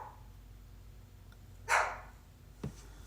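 A single short dog bark sounds from nearby, followed by a fainter thump, over a quiet indoor background.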